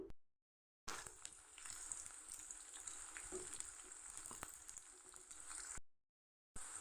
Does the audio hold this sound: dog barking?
no